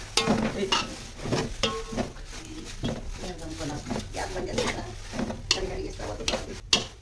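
Flattened rice with ginger and garlic is stirred in a pan by a grandfather, with spoon scrapes and clatter over a light sizzle, under ongoing talk nearby.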